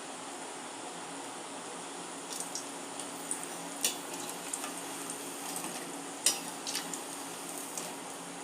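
Balls of wheat flour bonda dough fry in oil, a faint steady hiss with a few soft scattered pops and crackles, no talking.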